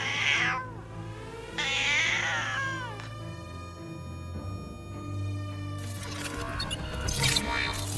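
Cats meow repeatedly, with several drawn-out, wavering calls close by, some rising into caterwauls, spread across the stretch over a quiet background.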